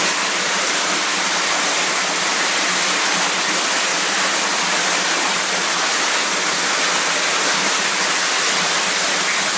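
A large volume of water pours down in a steady, loud, broadband roar that stays even throughout, with no voices.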